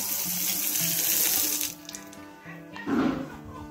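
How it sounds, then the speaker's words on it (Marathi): Water gushes loudly from a tap for under two seconds, cuts off, then splashes briefly into a vessel. "आज आमच्या नळाला पहिल्यांदा पाणी आलंय।"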